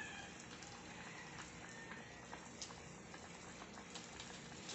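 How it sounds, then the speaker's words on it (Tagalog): Water for chicken nuggets bubbles and burbles at a rolling boil in a pot, a steady, quiet churning with small pops throughout. "Kumukulo na, lagyan na natin ng konting asin."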